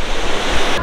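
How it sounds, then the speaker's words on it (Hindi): Rough ocean surf crashes steadily on a natural sand beach on Socotra Island, a loud, continuous wash of waves mixed with wind noise on the microphone. "समुंदर बड़ा आज जोश में लग रहा है"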